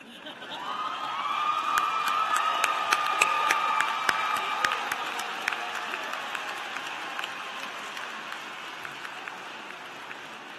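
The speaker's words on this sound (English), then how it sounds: "Everybody just stand up and clap for somebody." Law school graduates at a university commencement stand and applaud, a loud sustained wash of clapping with cheers and whoops that swells early and slowly tapers off.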